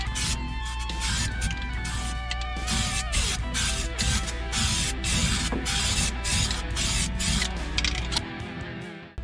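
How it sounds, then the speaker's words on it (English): An aerosol can sprays weld-through primer onto a new floor panel in a Pontiac Firebird, a steady close hiss that runs almost the whole time, broken by a few brief pauses and faint handling knocks. "let's get the weld through primer on here"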